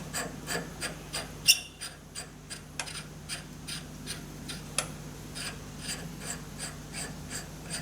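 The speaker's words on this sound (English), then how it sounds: "I'll just polish off the tops of the threads there" Machined leadscrew threads are polished by hand in faint, even rasping strokes, about two per second, over a low steady workshop hum, with an occasional sharper click.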